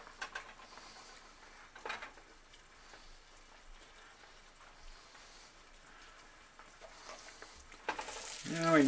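Garlic and shrimp sizzle in a pan for lemon garlic shrimp with asparagus pasta, a soft steady frying hiss with occasional stirring scrapes that grows louder at the end.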